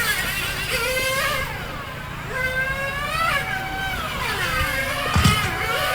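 A 1/8 scale RC race car runs down the front straightaway during a ROAR Region 12 event, giving a high, whining engine note that repeatedly rises and falls in pitch as it passes, loud and continuous.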